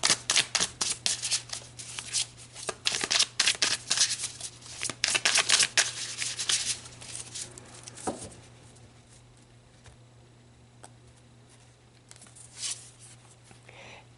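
Tarot cards are shuffled by hand in rapid, crisp riffling bursts for several seconds close up, then the handling turns quieter with light sporadic card taps.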